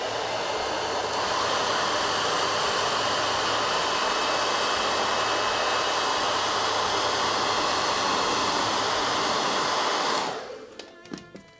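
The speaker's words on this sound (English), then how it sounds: "just gonna hit it real quick with the blow dryer" A blow dryer roars steadily and loud, blowing on freshly painted gem details of a Warhammer miniature for about ten seconds before switching off, followed by a few small clicks and taps.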